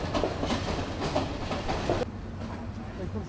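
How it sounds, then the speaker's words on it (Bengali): The Burimari Express intercity train running from Santahar, heard from inside as a steady rumble with rhythmic clickety-clack of the wheels, continuous and moderately loud throughout. "সান্তাহার থেকে আমাদের ট্রেন আস্তে আস্তে আবারও ছুটে চলছে বুড়িমারির উদ্দেশ্যে।"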